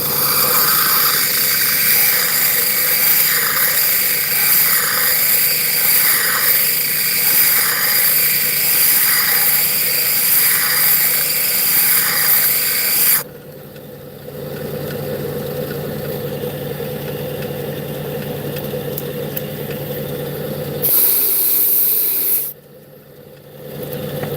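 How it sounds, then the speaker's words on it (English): Lake Superior agate being ground on a spinning grinder to smooth a nicked edge, a loud steady whirring drone with a rhythmic pulsing wobble, then dropping to a quieter hum before a brief louder burst near the end. "let's see if we can kind of grind that edge down a little bit"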